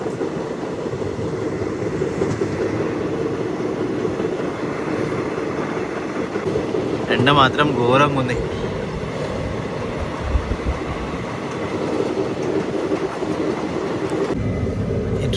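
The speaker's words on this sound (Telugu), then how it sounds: "ఈ ట్రైన్ అయితే ఇక్కడ మెల్లగా పోతుంది" The Nagarsol Superfast Express runs slowly near Bhimavaram town, a continuous loud rumble and rattle of the carriage with a brief screeching squeal midway, and a voice speaking briefly.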